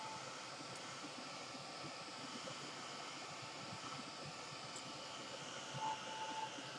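A heat gun blowing on ribbon to dry it, a steady close whooshing drone with no pauses.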